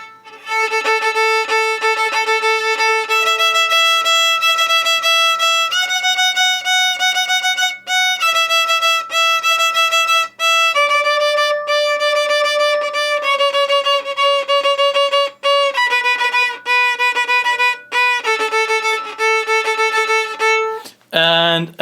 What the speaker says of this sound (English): That Twinkle Twinkle Little Star that I've been playing the most sounds something like this.